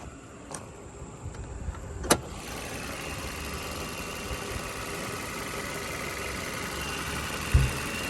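A Chevy Malibu engine idles quietly as a low, even hum, with a sharp click partway through and a soft thump near the end.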